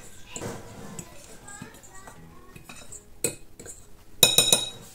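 Dry ingredients of cornstarch, flour, salt and baking powder being mixed in a bowl for a marble cake, with soft scraping and stirring, a few light clinks of utensil against the bowl, and a brief voice in the background.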